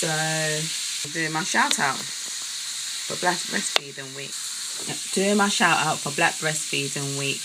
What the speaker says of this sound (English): I am talking in my kitchen while I cook food for my babies, so you can hear some sizzling in the background